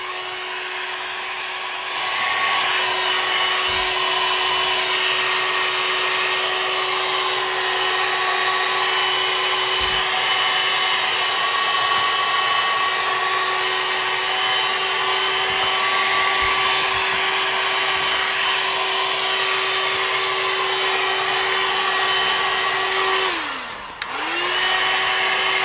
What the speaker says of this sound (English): We can hit it with the heat gun.